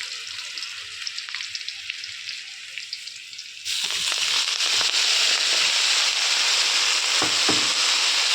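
Leafy greens (shaak) sizzle in a kadai. A moderate frying hiss gives way to a sudden loud, dense sizzle and crackle as the greens go into the hot oil, continuing steadily up close without speech.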